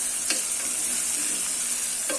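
Three green chillies and a little mint sauté in a pan for tomato rice, giving a steady, fairly loud sizzle with a couple of brief stirring scrapes.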